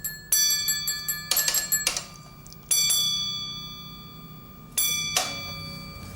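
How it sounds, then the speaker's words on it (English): Signal box block bells rung by a signaller in a Stockport railway signal box: several bright metallic strikes, first a quick irregular cluster, then single rings, each leaving a long shimmering decay in a quiet room. "Bit sarcastic bell ringing there."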